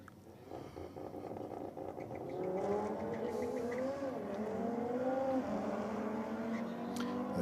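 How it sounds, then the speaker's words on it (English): A drag racing car spins its wheels on the start line at Sydney Dragway, with a loud, sustained engine roar and rising revs carrying a brief tyre screech, the sound steady and close throughout. "Hear the tyres just screeching a little bit there."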